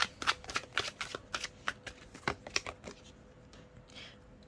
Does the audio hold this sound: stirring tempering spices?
no